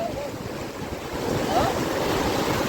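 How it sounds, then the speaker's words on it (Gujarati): Waves surging and washing in on the shore at Somnath, Gujarat, with a steady broadband roar, mixed with wind buffeting the microphone; a faint voice briefly underneath. "એ આમ તો મોજા આવે"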